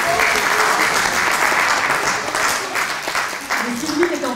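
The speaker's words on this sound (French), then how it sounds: "Je vais l'applaudir." Applause from people gathered at a polling station in a European election as a disabled voter casts her ballot; steady, dense clapping fills the whole stretch at close range, with a voice briefly audible near the end.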